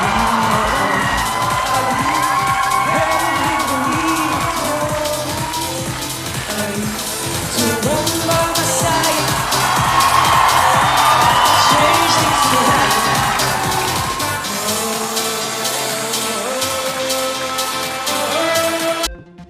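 A large crowd cheers and claps loudly at an outdoor dance performance set to air-guitar music. The music runs beneath a continuous wash of crowd noise.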